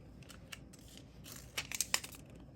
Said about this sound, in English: So you put the sticky pad in here, and you just peel it off